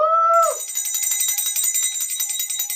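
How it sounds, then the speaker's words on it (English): A single bright bell is struck once to celebrate a breakup. The clear, close ring decays into a sustained, shimmering metallic tone. "That's your freedom bell. This is what we ring when you get rid of that dead weight."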